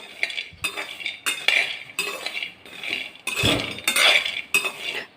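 Peanuts stirred nonstop with a metal spoon in a kadai over a medium-low gas flame, with repeated close scraping and clinking strokes against the pan and irregular rattling of the nuts.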